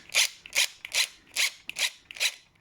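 A ratchet wrench tightens a bolt on an electric CRF dirt bike with six quick, close clicking strokes in an even rhythm, crisp and alone in a quiet space.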